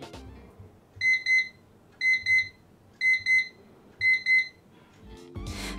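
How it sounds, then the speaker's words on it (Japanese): A simple battery-powered (AA) kitchen timer sounds its alert: four evenly spaced pairs of soft double beeps, one pair each second, clear and close against a quiet room. "ちなみに通知音は結構シンプルな感じの音なんですが、"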